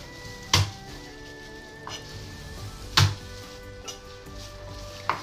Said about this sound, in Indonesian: geprek bawang putih